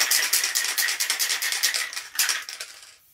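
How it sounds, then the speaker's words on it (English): Spray paint can hissing onto artificial flowers in short repeated bursts, about a dozen close, loud sprays in an even rhythm before a final release and silence. "I have a towel for when I do spraying."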